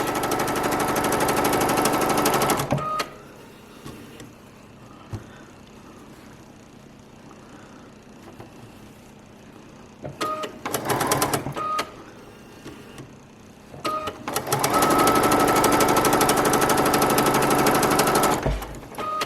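A sewing machine sews a quarter-inch seam on a Dresden plate quilt piece in loud, close bursts of rapid stitching, with a pause of quieter handling between the runs.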